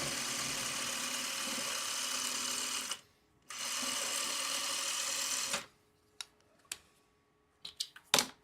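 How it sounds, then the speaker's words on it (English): Sewing machine stitching sashing pieces onto a quilt block, two steady close bursts of fast whirring separated by a brief pause, then quiet with a few handling clicks. "I will need to sew on both sides, sashing pieces on both sides of these"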